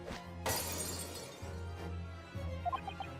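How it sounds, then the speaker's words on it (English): A decorative stone Napoleon bust is smashed on the floor in the video game Dai Gyakuten Saiban, giving a sharp, loud shattering crash over a low musical drone, followed by brief tinkling chimes. "He smashed the decorative stone Napoleon bust on the floor."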